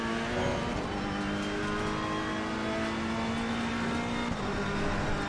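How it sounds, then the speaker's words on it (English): Ferrari race car in a racing video game, its engine holding a steady, loud, high-revving drone flat out throughout, with harmonic pitch shifting slightly as it climbs and drops between gears. "This is so easy to go flat out here in the Ferrari."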